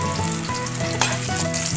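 Garlic frying in a hot pan as the base for pork sisig: a loud, dense sizzle that stays constant, with a brief brighter crackle near the middle and no talking.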